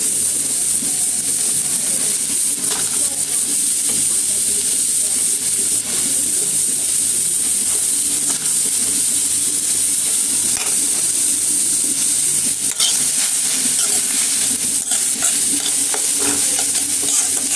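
Loud, continuous sizzling of chopped onion frying in hot oil in a wok, with occasional scraping stirs over a steady hiss.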